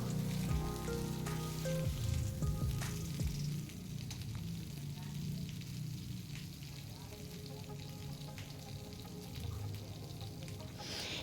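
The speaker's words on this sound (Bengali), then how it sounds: "আমি পটলটাকে খুব ভালো করে ফ্রাই করে নেব" Pointed gourd (potol) pieces fry in hot oil with a steady, close sizzle throughout, louder at first and then settling to a constant crackling hiss.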